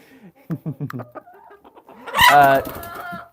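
Backyard chickens cluck in several short bursts close by, followed by a louder drawn-out squawk from one bird near the end, with no talk over them.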